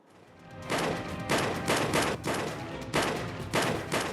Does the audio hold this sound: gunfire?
yes